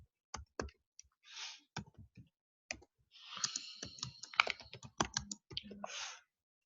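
Computer keyboard typing while information is entered into an online order form: scattered crisp key clicks in irregular bursts, with a few softer rustling sounds between them, fairly quiet and close.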